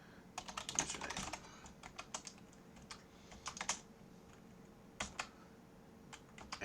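Code is typed on a computer keyboard in quick bursts of crisp clicks with short pauses between them, close and quiet, with no talking.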